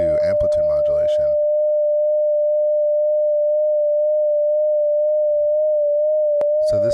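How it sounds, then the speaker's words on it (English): A pure, steady 600 Hz electronic tone wavers gently as it is swung 4 Hz above and below its pitch in a soft vibrato. It starts under a speaking voice, then continues alone until a brief click near the end. "It's going 4 hertz above and 4 hertz below 600 hertz."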